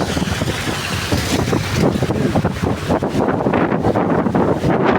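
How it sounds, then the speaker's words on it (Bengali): Strong wind roars steadily across the microphone on a train in rain, loud and gusty throughout, with no voices heard. "এত বাতাস"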